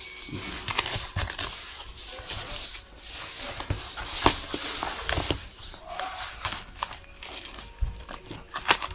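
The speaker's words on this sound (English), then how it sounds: "let me open this up from the box and see" Cardboard and plastic packaging of a Royal Enfield Himalayan fog light set is pulled open, with close, uneven crinkling, tearing and rustling in irregular bursts and a few knocks from handling.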